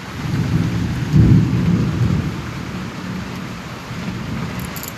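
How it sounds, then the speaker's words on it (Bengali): Monsoon rain pouring steadily, heard from a first-floor balcony, with a deep rumble of thunder swelling early on and fading under the constant wash of falling water. "দেখো বৃষ্টি পড়ছে"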